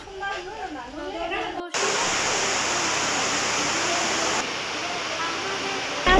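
Rain falls heavily outside a resort at Shingair, a loud, steady, broad hiss that takes over abruptly after a brief stretch of a person talking indoors.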